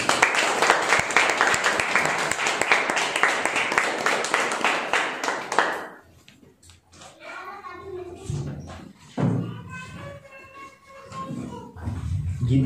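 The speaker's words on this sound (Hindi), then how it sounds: "क्यों ना जोरदार तालियां दें परमेश्वर के लिए।" A church congregation claps loudly for God for about six seconds in dense, sustained applause, and then the clapping stops and a voice talks over quieter room sounds.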